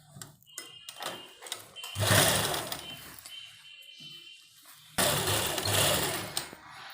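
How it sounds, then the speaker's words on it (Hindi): Domestic sewing machine stitching a half-inch seam on a kurta, two loud rattling bursts of rapid needle clatter separated by quieter handling and pauses, close up. "सिलना है आधा इंच की सिलाई लेकर"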